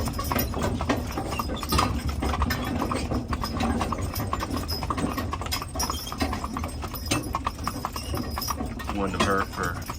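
Young horses trot on a road with near, steady clip-clopping hooves while people talk throughout and an engine hums in the background.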